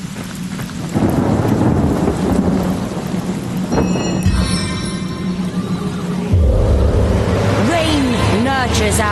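Video game rain and thunder: loud thunder rumbles over steady pouring rain, with a sharp crack midway and a deep roll afterward; a voice briefly speaks near the end.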